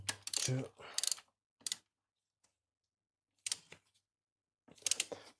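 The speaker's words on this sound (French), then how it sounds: "il y a un ordre pour serrer les vis afin que la culasse épouse bien uniformément la surface du bloc" Cylinder head bolts being tightened on a Mercedes CLK engine, a few short ratcheting clicks in separate bursts with silent gaps between them, close and clear.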